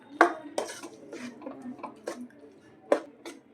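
Spoon scraping and clinking against a pan while sugar is stirred over low gas heat for beet and date barfi, a few sharp close metallic taps at irregular intervals with softer scraping between.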